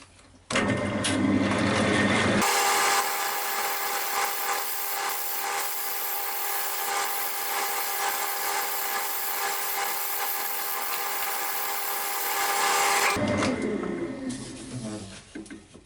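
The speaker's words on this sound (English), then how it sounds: "I'm going to make it a little bit smaller, just with the fine side, just scraping the side of the tool." A woodturning tool's fine side scrapes a wooden goblet spinning on a lathe, a steady, loud rasping hiss that holds for about ten seconds before easing off, with motor hum at either end.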